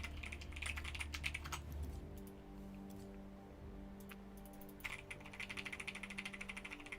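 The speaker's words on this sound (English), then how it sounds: "you might hear my keyboard" Rapid keyboard typing at a home computer during a high-ranked Age of Empires IV session, close-up clicky keystrokes in dense bursts with a pause midway, over a steady low computer fan hum.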